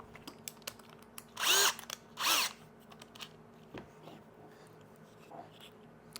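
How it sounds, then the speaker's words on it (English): Small 12-volt power drill with a socket, clutch set low, turning on a firearm suppressor: two short loud whirring bursts close by, amid scattered clicks and handling taps. "I'll be using a power drill and I have it set to about 10, and this is just a little 12-volt one"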